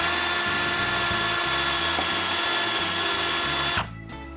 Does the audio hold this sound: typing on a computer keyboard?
no